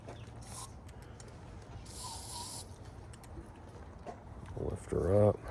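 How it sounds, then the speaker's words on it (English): Blaster multi-purpose lubricant sprays into a deadbolt lock in short hissing bursts, followed by faint mechanical clicks and a ratcheting rattle from the lock close by, with a voice speaking briefly near the end. "Spray in that keyhole. Spray this backside."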